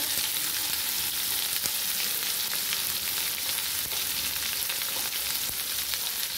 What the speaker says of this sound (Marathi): तो हे वाटलेला मसाला आहे तो टाकून घ्यायचा आपल्याला तेलावर। तो पण आपल्याला छान तेलावर परतून द्यायचा आहे मस्त।